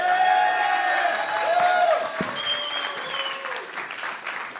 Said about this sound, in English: Give another round of applause to all the candidates